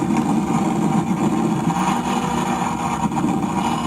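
A Toyota Supra drives on the 101 North freeway heading toward Westlake Village. A loud, continuous engine and road roar holds steady throughout without any break.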